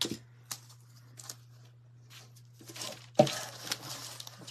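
Scissors cutting Dollar Tree stickers: several separate close snips and crinkles in quiet, with a sharper cut and rustle near the end over a low electrical hum.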